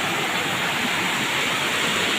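Heavy water pouring down through a rocky stream channel in monsoon flow, a dense, steady roar filling the whole clip with no voices.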